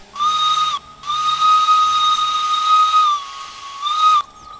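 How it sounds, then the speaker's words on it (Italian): A steam locomotive whistle sounds in the train simulator game Derail Valley: three loud, hissing tonal blasts, a short one, then a long sustained one and a brief final toot, with steam hiss around them. "fischiata"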